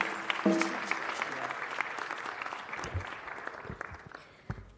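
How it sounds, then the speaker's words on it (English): Round of applause from an audience at a city council meeting honoring a commission, broad steady clapping that tapers off toward the end, with a brief tonal sound near the start. "let's give the commission one more round of applause"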